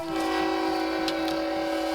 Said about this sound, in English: Let the train go by and.